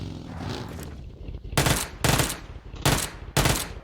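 Automatic gunfire in a shooter video game, fired at a bot: four loud, close rapid bursts, each about half a second long, following a stretch of quieter background game noise.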